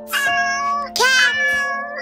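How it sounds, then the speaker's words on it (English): A cat meows twice up close, two clear, loud, tonal calls with a short gap between them and a faint third murmur trailing off. "Cat, cat."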